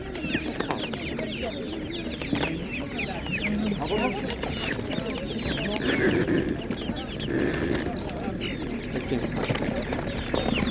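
Chickens cluck steadily at a busy animal market, Spanish and naked-neck breeds among them, with overlapping bird calls and market chatter in the background throughout.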